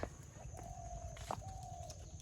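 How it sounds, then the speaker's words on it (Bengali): Faint birds calling in the quiet mangrove forest of Taki Mini Sundarban: a thin sustained whistle and a few brief chirps, distant and soft. "কিচিরমিচির পাখির আওয়াজ"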